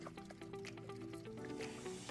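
Hydrogen peroxide is poured straight into a boat's live well, giving a steady, faint, gurgling liquid stream with soft splashy bubbling throughout, close by and alone.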